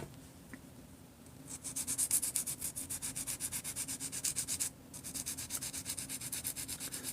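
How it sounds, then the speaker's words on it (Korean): Sandpaper rubs in quick, even back-and-forth strokes over a resin figure part, a soft rhythmic scratching that starts after a quiet second, pauses briefly, then resumes close to the mic. "요거 살짝 사포질 하는 모습을 보여드리도록 할게요"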